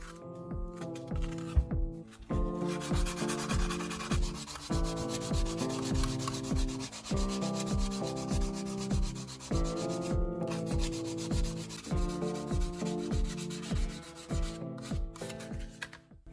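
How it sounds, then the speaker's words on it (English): Steady rhythmic rubbing of sandpaper against a plastic knife handle, quiet and close, repeating back-and-forth strokes under soft background music. "Switch to sandpaper and begin smoothing the edges."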